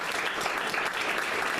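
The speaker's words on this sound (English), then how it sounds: "everybody give Mr. Franklin a round of applause." A gathered audience at the Old Central Fire Station in North Little Rock, Arkansas gives a steady, moderately soft round of applause that continues unbroken throughout.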